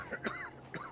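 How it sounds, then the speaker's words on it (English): A man coughs in the video game Hitman 2, a few short, rough close coughs with a throat-clearing quality, heard alone. "Can't you do anything to strangle this cough"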